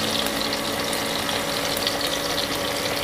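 Green chilies and minced ginger frying in oil inside a pressure cooker while making baingan bharta, a steady close sizzle running evenly throughout with no talk.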